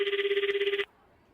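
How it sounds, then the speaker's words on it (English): A phone ring tone trills in a rapid pulsing burst for under a second, loud and close, then cuts off to near silence as a call to Kathy is placed. "You scroll to Kathy's phone number and press the call button."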